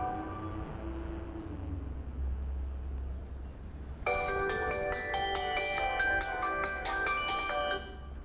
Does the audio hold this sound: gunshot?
no